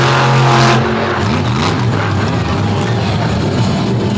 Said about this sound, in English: Dragging the wheelie bar and the flag, Plain Crazy lays it down and gets it done.